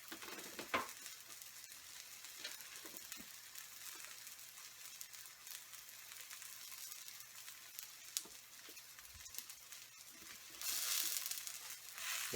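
A besan cheela, a spiced gram-flour pancake, cooks on its second side over reduced heat, giving a faint, steady sizzle with a few soft taps and a brief louder hiss near the end.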